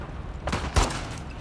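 Two gunshots in The Last of Us Part II video game, a moderate crack followed by a heavier, deeper shot, both short and close with a brief decay, over a low background hum.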